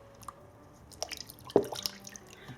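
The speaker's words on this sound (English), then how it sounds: "Keep rinsing until the sticky residue has been removed." Soft watery splashes and drips as a fabric leaf is swished in a basin of hot water, with a sharper slosh midway; close and fairly quiet.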